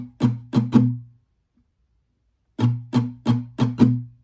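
Acoustic guitar playing a simple strum pattern: three quick strokes, a gap of over a second, then five more strokes, close and clear with no talking.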